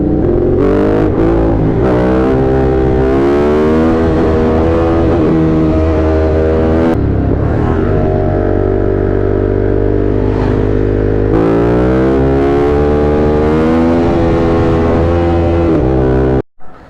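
A Yamaha YZF R1 sport motorcycle engine revs hard and close, climbing in pitch through repeated throttle blips and holding a loud, snarling tone before cutting off abruptly at the end.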